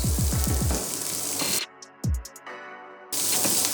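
Ginger garlic paste, green chillies and chopped onion sauté in a hot pan with a loud close sizzle and a few stirring knocks. The sizzle drops away in the middle, leaving short faint clinks, then returns at full strength.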